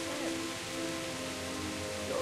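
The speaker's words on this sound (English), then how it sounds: "especially with the rain and the noise and all that other stuff" Rain falls steadily in the medieval video game Kingdom Come Deliverance, a soft continuous hiss with faint tonal game sounds beneath, no talk.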